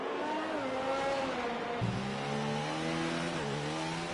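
A race car on a soft-tyre hot lap in a sim racing game at the Mexican Grand Prix circuit, engine revving loudly with gear changes and steady pitch climbs, alone without talk.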